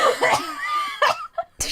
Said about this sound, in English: That's why I kept coughing.